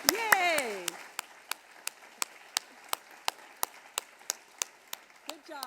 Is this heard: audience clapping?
yes